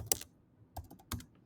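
A few soft keystrokes on a Mac computer keyboard, entering a terminal command, come as light scattered clicks in small clusters, faint and close with no talk.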